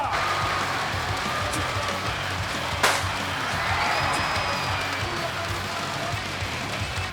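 Huge crowd of fans packed along the Gwangalli beachfront in Busan roaring and cheering at an esports final, a dense continuous wall of noise with a sharp slam-like burst partway through.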